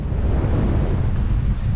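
Wind blowing across the rocky shore above rockpools in Lanzarote, a steady low roaring rush that buffets the microphone throughout, loud and unbroken with no voices.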